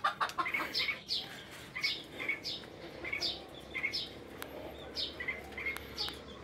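Hens cluck repeatedly near a shared nest full of eggs in a backyard coop, their short, rhythmic calls steady and fairly close over a soft, constant outdoor background.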